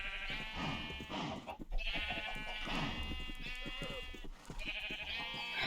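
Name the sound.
sheep bleating in Minecraft video game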